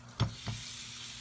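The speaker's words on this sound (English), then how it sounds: "So you want to run water through this," Tap water runs through a dish scrubber at a single kitchen sink, a soft hiss with two brief splashy bursts near the start, quiet and alone.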